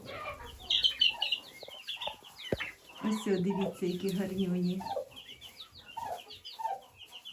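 A hen clucks in low repeated notes while chicks peep in high, rapid chirps around her; a person speaks softly over them.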